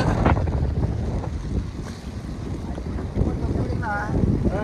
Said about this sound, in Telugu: ఇదిగో తుఫాన్ ఇలాగే ఉంటుంది చూడండి